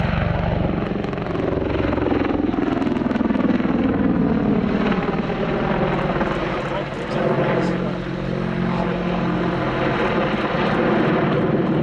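Loud, steady military attack helicopter rotor and engine noise close by during an airshow display flight at Cosford, 2019, with a voice talking over it throughout as the pitch shifts slowly.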